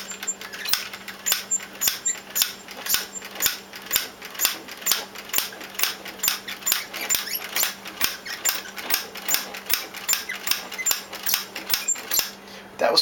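A daylight bulk film loader being wound, giving a long run of crisp mechanical clicks in a steady rhythm, each with a faint ratcheting whir, heard close and alone.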